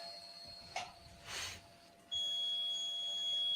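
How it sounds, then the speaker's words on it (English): A Creality CR-M4 3D printer gives a few short beeps, then a steady high electronic tone holds on near and alone. "I've got things beeping at me."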